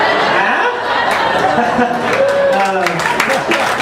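Audience at a comedy cabaret competition clapping steadily with scattered chuckles and chatter, loud and close, a dense wash of hands filling the room throughout.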